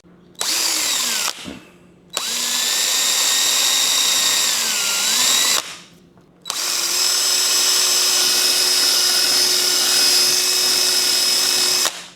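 A power drill whirs loudly in three long bursts separated by short pauses, its motor pitch dipping and rising as it bites into material.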